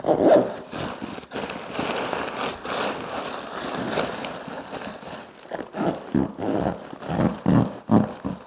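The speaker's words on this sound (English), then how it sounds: "Now I'm going to attempt to zip it." The zipper on a Kazoo pop-up tent's carry bag is pulled in a series of short, rasping tugs, up close and fairly loud, stopping and starting repeatedly, with no talking.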